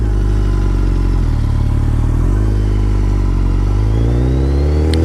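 A BMW K1300S motorcycle engine drones loudly and steadily close by, its pitch dropping briefly at each of two quick gear shifts before climbing again under acceleration.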